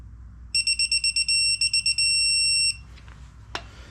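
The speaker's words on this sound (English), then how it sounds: "And that means 15 when it has the solid beep." A torque wrench gives a series of sharp, high electronic beeps in quick pulses, then one long steady tone at set torque during a crankshaft install, followed by a brief click and quiet room noise.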